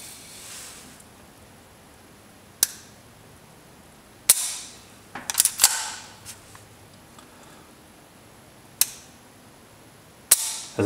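Trigger resets on a CZ75 Accu Shadow pistol make a series of crisp, isolated mechanical clicks, spaced irregularly with a few close together, against a very quiet background.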